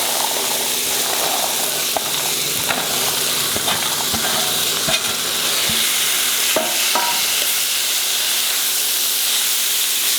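Vegetables with turmeric being stirred in an oiled pan, a constant sizzling hiss punctuated by sharp scrapes and taps of the spoon against the pan.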